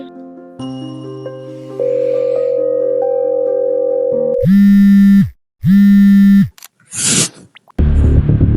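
A phone call rings out as an employee calls his manager: steady electronic tones hold, then two long loud ring bursts follow with short gaps between them, and a brief noisy burst comes at the end.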